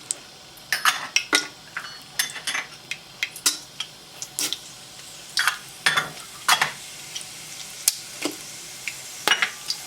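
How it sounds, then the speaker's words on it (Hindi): Whole spices are dropped into hot oil for chicken biryani and sizzle while a utensil clinks and scrapes against the pan in a run of sharp, irregular knocks and stirs. Nobody speaks. "तेल जो है अच्छी तरह गर्म कर लिया, उसमें आप डालेंगे जो कि साबुत मसाले हैं"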